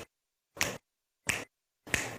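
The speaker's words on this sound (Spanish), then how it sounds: "También vamos a utilizar chasquidos" Four crisp finger snaps ring out one at a time in a body percussion exercise, evenly spaced with silence between each.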